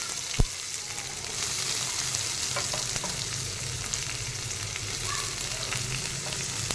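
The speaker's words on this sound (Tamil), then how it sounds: "இது நல்லா வதங்கணும் வெங்காயம்." Sliced onion and curry leaves sizzle steadily in a hot oiled pan, a continuous close frying hiss with a sharp clank at the start and light stirring scrapes throughout.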